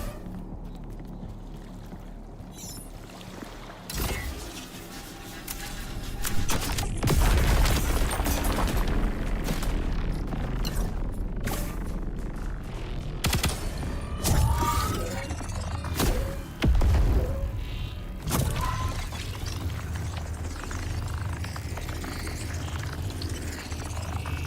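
Cluster bomb blasts in the VOID/BREAKER roguelite shooter, a run of booming, crackling bursts spread over the clip, loud and close amid continuous game noise.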